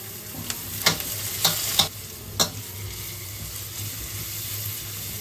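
Steady frying sizzle of onion with chilli and ginger-garlic paste in a pan, broken by a few sharp clicks of a spoon scraping and stirring.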